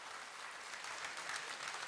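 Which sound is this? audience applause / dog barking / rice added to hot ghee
audience applause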